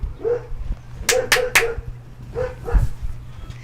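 Dogs barking in short sharp bursts, a quick cluster of three loud barks in the middle with softer yips before and after, moderately close, with faint voices around them.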